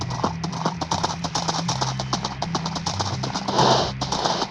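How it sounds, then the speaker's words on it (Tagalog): Horse hooves clip-clop steadily and rhythmically while riding in the Minecraft video game, a continuous stream of crisp, evenly spaced hoofbeats over a low ambient hum, with no talking. "Doon, sakay na tayo sa kabayo natin."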